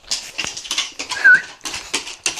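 A dog whimpering indoors, a series of short, high, nasal whines and yips repeated in uneven bursts, close and fairly clear with little else around.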